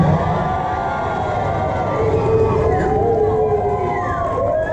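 A ballroom dance audience at a Leeds competition cheers loudly, with a continuous crowd roar and rising and falling whoops and shouts carrying across the hall.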